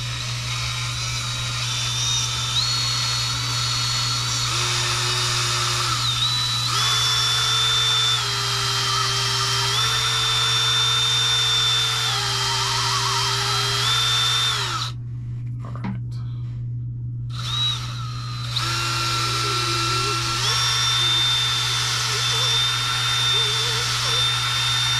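A drill spins steadily to ream out cork rings so they fit a fishing rod blank, whining with a constant hum and shifting pitch, stopping briefly partway through before resuming.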